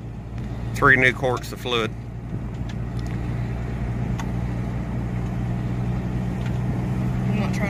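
A 1991 Plymouth Laser RS rolls along the road with a low steady engine hum and road rumble that fills the cabin, while someone talks briefly over it near the start.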